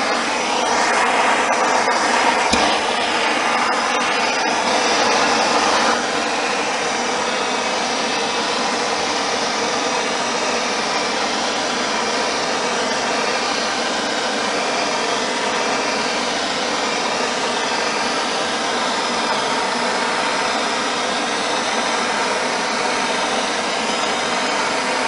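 A torch blasts flame across wood for a European skull mount, a loud, steady roaring hiss that runs unbroken for around 25 seconds, with a few faint knocks early on.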